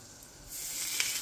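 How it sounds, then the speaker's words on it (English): A soft, steady hiss of meat sizzling in a hot pan, rising slightly partway through, with a faint crackle near the end. "we're going to put the meat right on the heat. A little bit of a sizzle."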